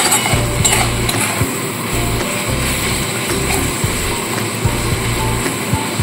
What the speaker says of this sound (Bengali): কুচো চিংড়ি দিয়ে একটু নাড়াচাড়া করে নিতে হবে।